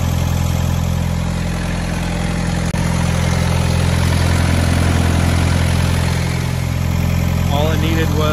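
A vehicle engine, just revived after a battery charge, idles steadily and close by for the whole stretch, its low rumble constant with no gaps.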